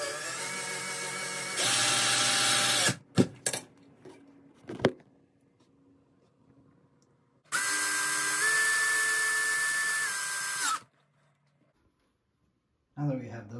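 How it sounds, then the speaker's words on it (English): A Phillips cordless screwdriver drives screws into a moulded wood toilet seat, loud whirring motor bursts of a few seconds each, separated by clicks and quiet pauses. "take your Phillips cordless screwdriver and cordless drill and screw down on that while holding this in"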